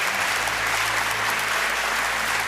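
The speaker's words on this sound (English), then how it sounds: "Big applause." Audience applause at the Young Inventors Prize 2025 ceremony, a steady dense clapping from a crowd that fills the whole clip without a break.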